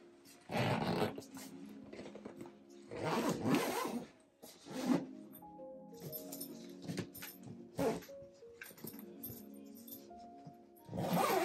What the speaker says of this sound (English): It folds up, zips up into like a backpack.